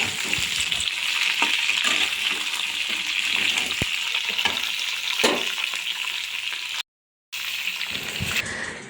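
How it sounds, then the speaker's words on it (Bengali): Mixed vegetables with pumpkin greens being stir-fried in a pan make a continuous close sizzle with intermittent scraping stirs and a brief silent gap near the end. "সমস্ত সবজিগুলো ভালো করে নেড়ে চেড়ে নিয়ে উল্টে পাল্টে ভালো করে মানে অর্ধেকটা প্রায় ভাজা ভাজা হবে"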